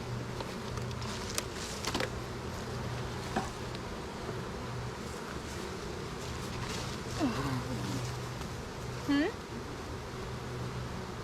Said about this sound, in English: I mean, that's just a lot of bees, which is great